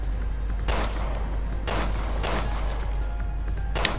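A handful of sharp pistol shots fire at irregular intervals in Resident Evil: Revelations 2 Raid mode, over a steady low hum and background game sounds.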